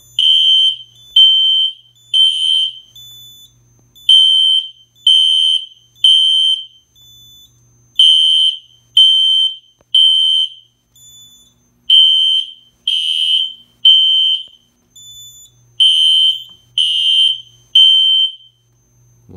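Notifier NFS fire alarm panel drill sounding a temporal-three pattern: loud, close, high electronic beeps in repeating groups of three with short gaps between groups, clean and alone with no talking.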